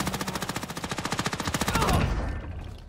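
Automatic gunfire in Call of Duty: Warzone, a rapid steady burst of machine-gun shots up close that ends abruptly and gives way to a rumbling tail.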